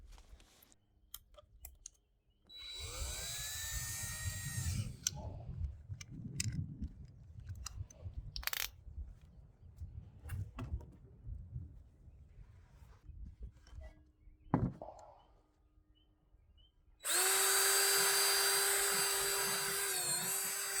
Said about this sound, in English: I found this Dremel brand flapper wheel, and it looks like it'll be just about the right diameter